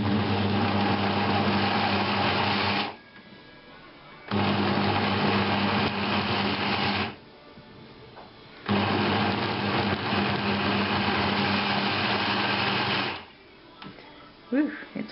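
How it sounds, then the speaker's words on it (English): A kitchen blender purees apples for applesauce in three loud bursts of whirring motor, each several seconds long, separated by short pauses with faint handling noises. "But now we're going to dump this in the blender."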